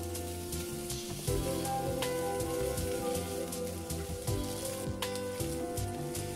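Red, yellow and green bell peppers hit a hot pan for a Chinese vegetable stir-fry, giving a steady, dense crackling sizzle that runs on without a break.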